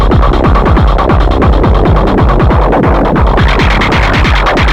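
A Herbs and Stones Solid Felt pedal in its filtered setting gives a loud, steady throbbing tone with a rapid repeating pulse and falling sweeps, played alone without any talk.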